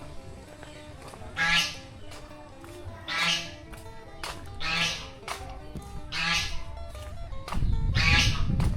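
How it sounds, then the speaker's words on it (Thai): Geese honk close by in about five loud, evenly spaced calls, with a low steady background hum between them. "ห่านอยู่ใน"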